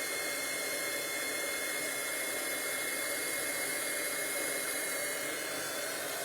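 A heat tool blows steadily while melting embossing powder, giving a constant loud fan-like rush of air with no pauses.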